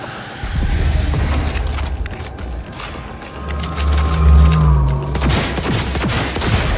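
Rapid gunfire from a futuristic weapon in the video game Cyberpunk 2077 crackles in loud, dense bursts over a deep rumbling game soundscape, with no speech.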